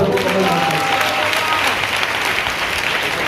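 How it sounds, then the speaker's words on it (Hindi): Steady applause from a crowd, dense clapping that fills the whole stretch with some voices mixed in. "ताली बजाकर"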